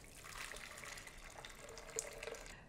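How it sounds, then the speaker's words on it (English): About two cups of freshly boiled water pour into a Vitamix blender jar, a quiet, continuous splashing trickle with a few small splashes near the end. "I've boiled 2 cups of water, and I'm gonna add this to my Vitamix."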